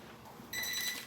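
A kitchen timer goes off partway through baking a sweet potato casserole, a sudden shrill electronic ringing that starts abruptly and continues steadily over quiet room tone.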